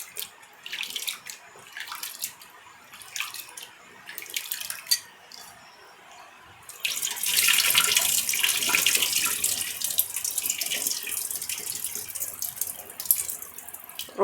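Sago pearls being washed in water for idli batter in a kitchen, with soft sloshing and a few clinks at first, then a loud, steady stream of running tap water filling the vessel.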